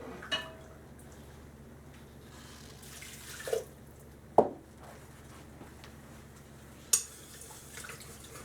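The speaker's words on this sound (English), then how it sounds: "this will be the third rinse with hot distilled water" Hot distilled water poured over refined silver crystals to rinse them, giving a quiet running trickle with a few sharp clinks of glassware spaced through it and no voices.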